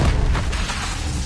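The Incendio fire spell is cast in Hogwarts Legacy as a short, loud whooshing burst with a deep boom, a single blast of flame that lingers briefly.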